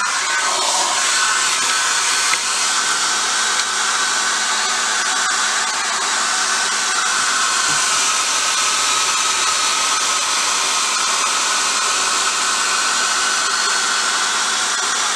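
A hair dryer blows continuously with a steady, breathy whine, close and unchanging throughout, with no voices, used to heat a model decal.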